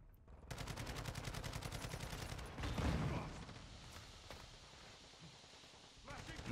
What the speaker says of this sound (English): My sentry gun's shooting at me.